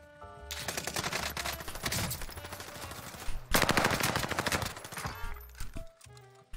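Gunfire in Warzone Solos, long loud bursts of rapid automatic fire broken by a short pause, then a few scattered shots.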